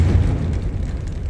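A Confringo blasting spell goes off in the Hogwarts Legacy video game inside the Fieldcroft catacomb, a deep, steady rumbling boom that fills the whole moment without any sharp break.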